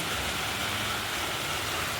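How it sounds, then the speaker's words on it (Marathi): Steady, dense rain patters continuously on a metal sheet roof, a constant wash of noise with no voices. "बघा आमच्याकडे पाऊस चालू आहे"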